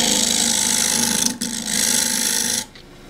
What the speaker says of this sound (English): first thing is to true up the face, and do with a half inch spindle gouge